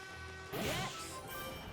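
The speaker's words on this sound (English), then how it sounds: "or else you will hit the exploding bits of train" Train parts blow apart in Sonic the Hedgehog (2006), a single sudden crash-and-burst over a humming game backdrop, quiet overall and followed by lingering rumbling debris.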